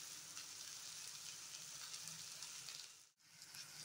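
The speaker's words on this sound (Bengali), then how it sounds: "এখানে আমি ভেজে নিচ্ছি কাতলা মাছ" Katla fish fries in hot oil with a steady, close hiss of sizzling that runs without a break and briefly drops out near the end.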